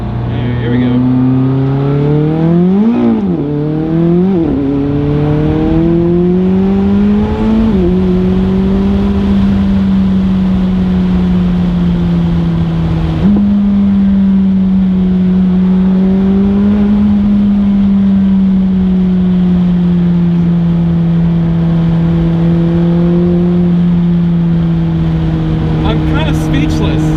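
A McLaren 600LT engine accelerates hard and loud, climbing in pitch through the gears, cutting briefly when traction control intervenes and shifting early into second, then holding a steady roaring drone.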